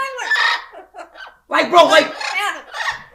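Pet parrots screech and squawk in loud, harsh bursts, a short call early on and then a longer, louder run of cries after a brief pause, close to the listener.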